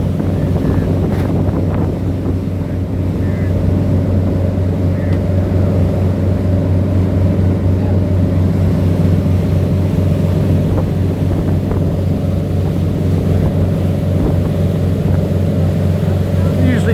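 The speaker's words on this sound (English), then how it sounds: "We're out here in the Lady Stuart fishing head boat. We're going out about 10 miles." The Lady Stuart fishing head boat motors out to sea off Stuart, Florida, its engine droning steadily beneath heavy wind buffeting on the microphone and rushing water, loud and continuous throughout.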